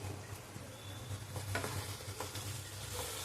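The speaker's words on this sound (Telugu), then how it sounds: "ఇలా గరిటెతో ఇలా మెల్లిమెల్లిగా మీరు స్మాష్ చేసుకోండి" Ladle mashing and stirring tomatoes into a ridge gourd curry in a pan, a steady soft sizzle with faint scraping taps, close and continuous with no talking.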